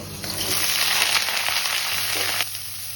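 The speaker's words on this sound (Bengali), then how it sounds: "একটা কড়াইতে তেল গরম করে ফুলকপি আর আলুটা একটু" Cauliflower and potatoes sizzle steadily in hot oil in a kadai, a loud, close, unbroken hiss with a sudden drop in intensity near the end.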